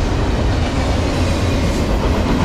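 A freight train hauled by BNSF and Union Pacific locomotives passes close by. Wheels rumble and clatter as a steady, loud roar for the whole stretch.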